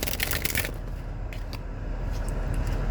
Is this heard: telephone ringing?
no